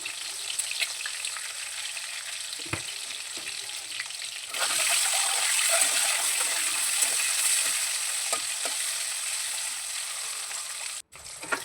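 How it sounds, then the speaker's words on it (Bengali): An egg seasoned with salt and turmeric fries in hot oil with a steady close sizzle, which swells louder about halfway through and then continues evenly, with a few light stirring scrapes and no talking. "নুন হলুদ দিয়ে ডিমটা হালকা ভেজে আমি তুলে রেখে দেবো"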